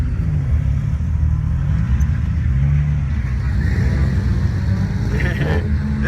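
A Subaru engine rumbles low and steady at an evening car meet, with people talking over the throbbing motor.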